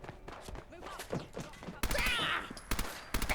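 Bursts of gunfire from the Fallout London video game rattle out in rapid, loud clusters during the second half, after a stretch of quieter game sounds, with a voice speaking over the action.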